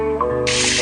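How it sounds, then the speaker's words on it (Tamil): Water gushes from a washroom tap on a train in a cartoon, a sudden loud hissing spray that bursts in halfway through and keeps pouring after a short tonal lead-in. "அட, அருவி மாதிரி தண்ணி கொட்டுதே."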